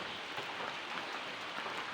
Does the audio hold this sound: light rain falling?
yes